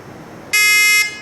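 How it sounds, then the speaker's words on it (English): A shot timer's start buzzer at an airsoft stage sounds once, a sharp high electronic beep lasting about half a second, loud and near over quiet room noise. "You'll hear a buzzer go off, and it's going to sound something like this."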